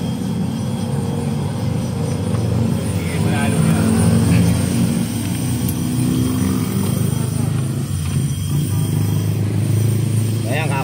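A Yamaha NMAX, Aerox or M3, or a Sniper scooter engine idling after a timing chain repair, a steady low mechanical hum running throughout, close and fairly loud, with someone talking over it.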